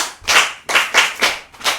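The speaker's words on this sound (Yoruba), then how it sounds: "ẹ pàtẹ́wọ́ fún un." Several people clap for a child in rhythmic bursts, five distinct rounds of claps close by and fairly loud, with no talking over them.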